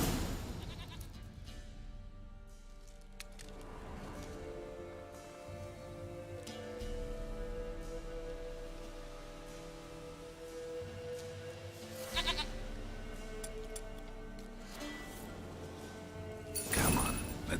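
A goat in The Witcher 3 bleats a few times over a steady game background, with occasional louder cries.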